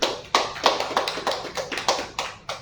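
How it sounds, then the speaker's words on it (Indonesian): A small audience claps in separate, distinct bursts that come in a loose, uneven rhythm of sharp slaps, close and fairly loud, with no talk over them. "Sekali lagi minta tepuk tangannya."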